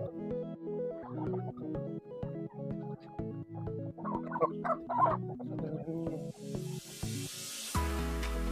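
A broody hen clucks near her newly hatched chicks, soft repeated clucks running steadily over a background of harmonic bird calls, with a brief louder spray-like hiss near the end.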